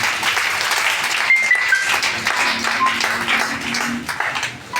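A church congregation claps together after a call to praise, dense scattered applause holding steady for several seconds with faint voices mixed in, loud and close.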